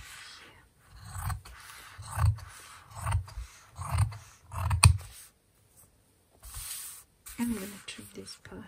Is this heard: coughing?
no